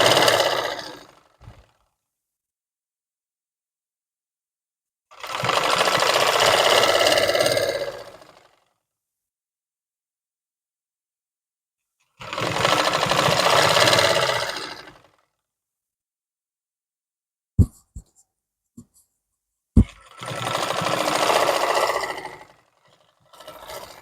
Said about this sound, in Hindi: इलास्टिक को खींचते हुए हम अपनी सिलाई कंप्लीट करेंगे।